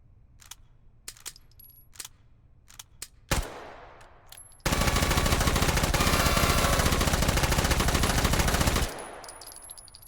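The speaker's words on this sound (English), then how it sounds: "Yep, that's a submachine gun, alright" Sustained fully automatic submachine gun fire in the H3VR virtual reality shooter, a loud unbroken burst lasting several seconds after a few sharp single clicks and one isolated report, then cutting off abruptly.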